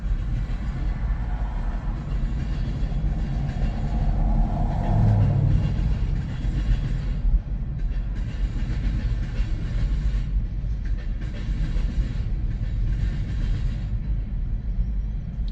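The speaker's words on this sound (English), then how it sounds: "Getting pictures of these boxcars as they're slow to get going." A CSX freight train of boxcars slowly gets moving in Emerson, Georgia, a deep steady rumble with faint clanking and rolling, fairly close and continuous.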